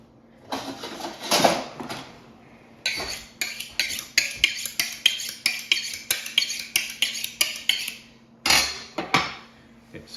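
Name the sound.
kitchen knife being sharpened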